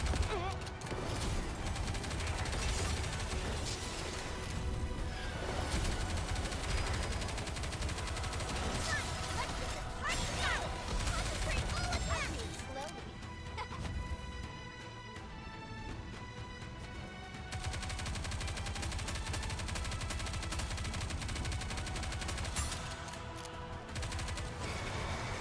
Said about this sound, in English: Bro, stop shooting Roppy.